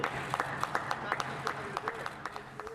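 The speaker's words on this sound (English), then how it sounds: "Here is the Prime Minister and Rishi Sunak and others clapping for carers" Outside Number 10, the Prime Minister, Rishi Sunak and others clap for carers: a thin, scattered patter of individual claps, moderately distant, with a faint background hum.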